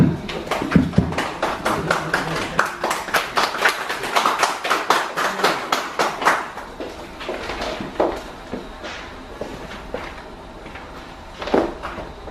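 A lecture audience at an author talk applauds: a burst of many hands clapping that swells quickly, then thins to scattered individual claps and dies out over about ten seconds, fairly close and with no voices.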